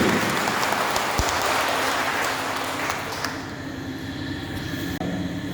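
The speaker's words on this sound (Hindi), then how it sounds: "जोरदार तालियां बजे।" An audience at a memorial evening for martyrs breaks into a dense, sustained wash of applause that fills the room, then thins and settles into a softer rumble.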